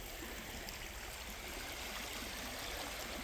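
A small creek in flood, rushing water roaring steadily and broadly at close range with no pauses or voices.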